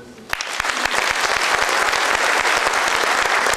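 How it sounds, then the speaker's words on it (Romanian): Applause from a crowd at a Romanian political rally bursts out suddenly and continues as dense, steady clapping that fills the space at close range, with no talk over it. "Și se aplaudă."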